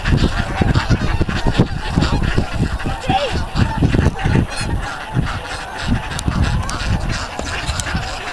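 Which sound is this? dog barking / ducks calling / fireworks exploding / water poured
ducks calling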